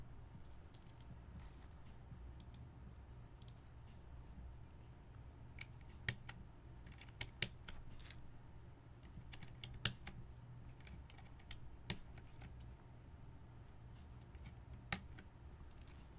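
Brown keycaps being pressed onto a keyboard: faint scattered plastic clicks and taps, some sharper than others, over a low steady room hum.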